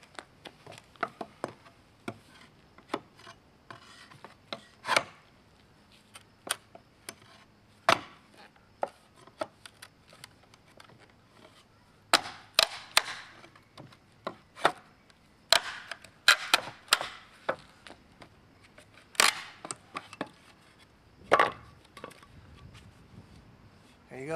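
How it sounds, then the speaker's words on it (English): Wood being pried apart with a Trucker's Friend utility tool to expose nails, heard as scattered sharp knocks, creaks and cracks in a quiet room, irregular and moderately close. "So I'll wedge that under this piece of wood and work on separating it from the other piece."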